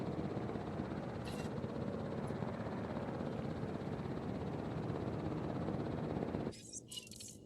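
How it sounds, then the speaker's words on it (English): Helicopter in the dinosaur park management game Jurassic World Evolution, a steady whirring rotor drone holding loud and level for most of the stretch before dropping away near the end. "Swear, it's like, where do those helicopters come from?"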